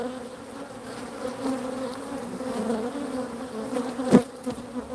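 Honey bees buzz at an open hive in an apiary, a dense, steady drone from many insects close by, with one louder bee passing right near the end; no one speaks.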